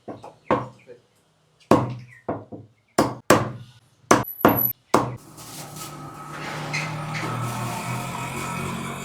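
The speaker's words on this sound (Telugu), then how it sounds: "చిన్న చిన్న పీసులు కొట్టు రోస్ట్ కోసం" A cleaver chops duck meat into small pieces for a roast. About nine sharp, separate strikes land at uneven intervals, and then a louder, continuous background din takes over.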